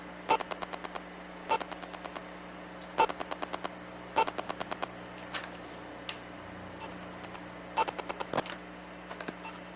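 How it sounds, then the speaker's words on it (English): Faint electromagnetic interference from an activity LED's data picked up by an audio amplifier: crisp ticking bursts, small clusters of rapid clicks repeating every second or so, over a quiet steady hum and static. "That is the sound of the LED data passing as electromagnetic fields into the amplifier."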